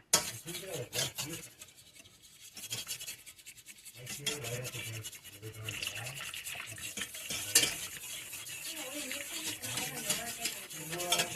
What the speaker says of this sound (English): Stir, stir, stir, stir, stir.